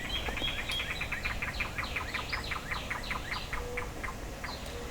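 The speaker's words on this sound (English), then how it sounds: "as you can hear, birds are just everywhere." Several birds sing outdoors in a rapid run of repeated chirps and trills, fairly close and clear over a soft ambient background, with nobody speaking.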